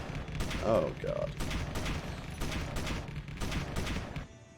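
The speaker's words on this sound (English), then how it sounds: "Also, the turrets do work." Turrets firing in the game Space Engineers give rapid, rattling bursts of gunfire that come and go. A person speaks briefly over the shots.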